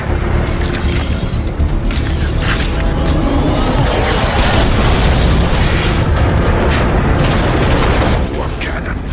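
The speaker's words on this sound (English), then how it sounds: "Warp cannons. Megatron isn't holding back anything this time." Heavy warp cannon blasts in the Transformers: Fall of Cybertron video game, loud booming explosions and rumbling debris filling the whole stretch continuously, with game dialogue and effects mixed in.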